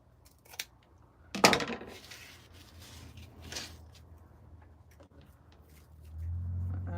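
Scissors trimming the ribbon tails on a patriotic American flag spiral wreath: a few quiet close snips and crisp rustles, separated by pauses, with a low hum rising near the end.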